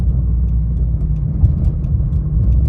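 Inside a 2013 Dodge Charger R/T with a 5.7L Hemi V8 on a road, a loud, steady low engine and exhaust rumble drones continuously under road noise.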